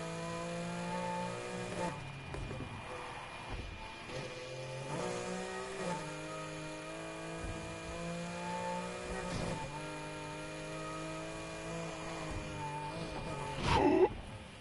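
Porsche GT4S race car engine in a racing video game, revving and shifting through gears with steady harmonic drone and repeated upshifts, fairly constant level, brief louder burst near the end.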